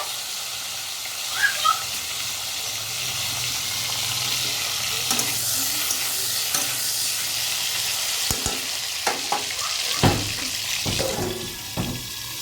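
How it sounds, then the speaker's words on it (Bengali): Pointed gourds (potol) frying in oil in a kadai give a steady sizzle, with stirring clatter and a few sharper knocks toward the end, over a faint running-water hiss. "কড়াতে তেল দিয়ে দিয়েছি পটলগুলো আমি একটু ভেজে নেব"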